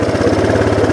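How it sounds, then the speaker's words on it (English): Engine of a log truck idling low and steady at close range, a rough, even rumble with no talk over it. "Turn the engine on just enough to keep me rolling"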